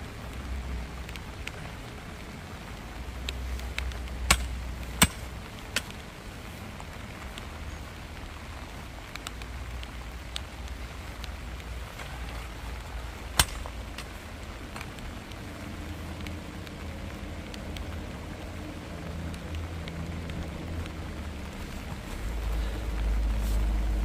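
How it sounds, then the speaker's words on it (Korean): Light rain falls on a stony field during the transplanting of thornless prickly ash seedlings, a faint steady patter with occasional sharp clicks and knocks from nearby work. "비가 오니까"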